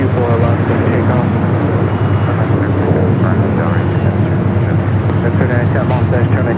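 An aircraft taking off from runway 24 at Los Angeles International Airport, a steady, loud engine roar that fills the whole span, with radio voices talking over it.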